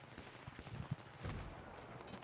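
An AK rifle fires on full auto in Battlefield 3, heard as faint, rapid rattling bursts under a muffled, noisy battlefield background.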